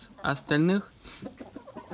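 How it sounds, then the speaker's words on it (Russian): Multicoloured hens, Cochin and Faverolles breeds, cluck nearby in short bursts on a home farm while someone speaks over them. "Куры у нас все вот такие разноцветные, красивые."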